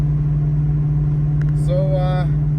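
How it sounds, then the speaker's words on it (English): Ford Mustang Foxbody cruising smoothly on cold tires, a steady low engine drone and road rumble running throughout with a brief brighter whine near the end. "The car's driving really, really smooth."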